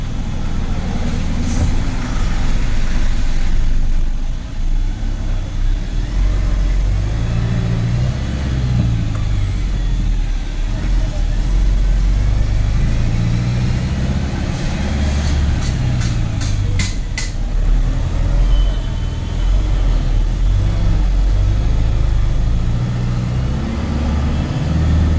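Dense traffic of trucks, cars and buses on the Mumbai-Goa highway near Sangameshwar, heard as a loud, continuous engine roar with vehicles passing close by and a few brief high-pitched tones partway through.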